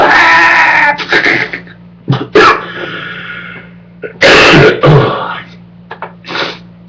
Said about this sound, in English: The dry cough.